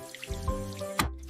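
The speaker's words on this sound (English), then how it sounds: "I turn on the water." A bathroom sink tap runs with a steady close hiss and splash of flowing water, with a brief louder gush near the end as the stream shifts.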